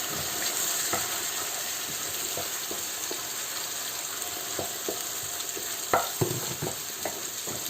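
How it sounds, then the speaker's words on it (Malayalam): Steady sizzling from a hot pan as ground paste for bitter gourd kichadi is added, with scraping and clinking of a spoon stirring, a few sharper knocks toward the end. "ഞാൻ ഇതിലേക്ക് വേണ്ട ഈ അരപ്പൊഴിക്കുകയാണ് നന്നായിട്ട് ഇളക്കണം"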